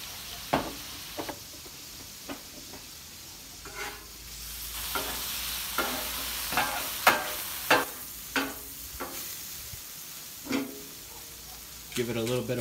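Shrimp pancit stir-fries in oil on a Blackstone flat-top griddle, with a steady sizzle under repeated sharp scrapes and clacks of a spatula working the noodles.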